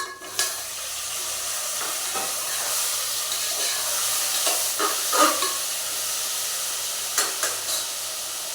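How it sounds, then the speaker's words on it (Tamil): Tomatoes frying in a pan for tomato biryani give a loud, steady sizzle and hiss throughout, with a few brief clinks of stirring. "தக்காளி நல்லா வணங்கிட்டு இருக்குது"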